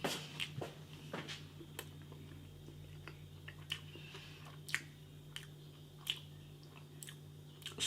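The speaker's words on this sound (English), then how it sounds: "It's when you chow down and you get that crunch, that gristle crunch" Someone chews a Ginsters smoky steak and Guinness slice with gristly bits, giving soft, close, irregular bites and squishy crunches over a low steady hum, with no talking.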